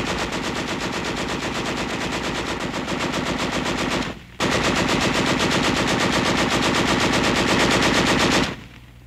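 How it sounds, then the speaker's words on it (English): A 1945 army machine gun fired from the hip in a training demonstration, roaring out two long, continuous bursts of rapid, loud gunfire separated by a brief pause. "A demonstration of hip shooting with a machine gun."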